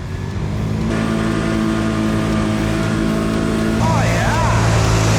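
A 2022 Can-Am Outlander 570 XMR ATV on 27-28 inch tires blasts through mud, its engine revving loud and close with a rising whine near the end while a voice is heard over it.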